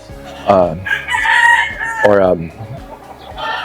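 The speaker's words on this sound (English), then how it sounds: "you can see there's some chickens back here. The neighbor has some chickens" A rooster crows loudly twice, close by, with other chickens clucking in between, from a neighbor's backyard flock in a residential neighborhood of North Vallejo.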